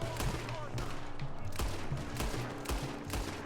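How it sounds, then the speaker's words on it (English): Red Dead Redemption 2 shootout: rapid, repeated gunshots crack over one another in a dense, continuous volley at close range. "we're getting into some shooting here"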